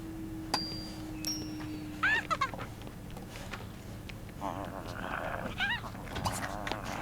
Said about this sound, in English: And there's a dog in my house.